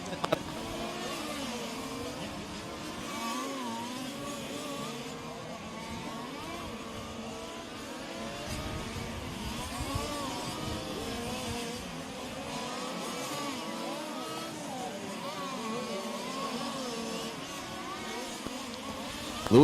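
Fifth-scale RC race cars, including the white number 4 car, lap a track through a double-apex carousel, their small engines buzzing and whining continuously at steady loudness, mostly without speech.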